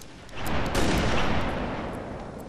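Single heavy sniper rifle shot in a shooter video game, a loud close boom that swells quickly and rolls on with a long, noisy rumbling tail.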